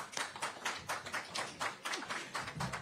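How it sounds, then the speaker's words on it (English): Sparse, faint clapping from a small audience closing a post-race press conference for the SuperMotocross World Championship finals, with soft irregular claps continuing steadily for a few seconds. "Let's have another big round of applause."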